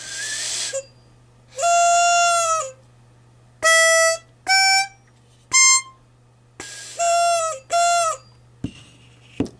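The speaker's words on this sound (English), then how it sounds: "have you ever had this problem where a child takes one of these harmonicas, blows it, and it sounds like this?" Broken four-hole toy harmonica blown in short bursts, producing about seven squeaky, reedy tones with uneven pitches and pauses between them, close and fairly loud over a faint low hum.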